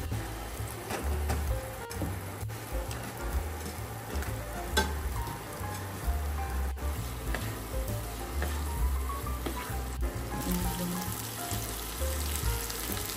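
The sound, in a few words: masala sizzling in oil while frying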